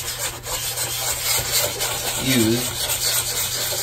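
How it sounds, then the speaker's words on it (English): Sandpaper of 240 grit rubs over dried wood filler on a wooden surface in a steady, close scratching texture, with a brief voice passing over it. "So just take some sandpaper. This is just some 240 grit."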